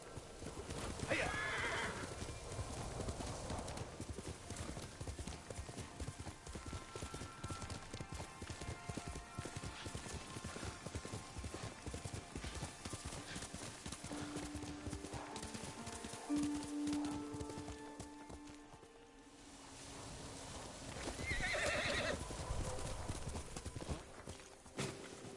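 A horse in the Ghost of Tsushima video game gallops with steady, rapid hoofbeats through the whole stretch, and loud close neighs break out near the start and again near the end. A voice speaks over the game sounds.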